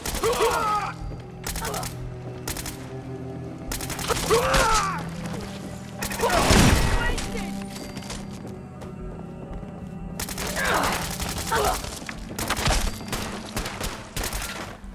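Fallout 4 gunfire: several bursts of shots and impacts spread across the scene, fairly loud against a low background hum, with brief voices heard between them.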